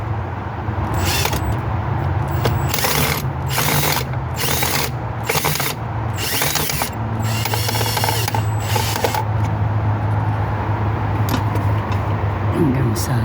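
Screw being tightened by hand while mounting a motion-detect security light for a driveway, giving repeated ratcheting clicks in short bursts against steady background noise.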